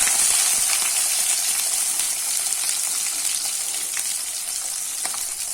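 Small shallots and spluttering mustard seeds fry in hot oil in a clay pot, a loud dense sizzle that stays constant and close throughout, with no one speaking.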